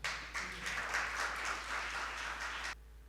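Audience clapping inside a Catholic church at a religious profession ceremony, a brief burst of quiet, dense applause that cuts off abruptly after about three seconds, over a low steady hum.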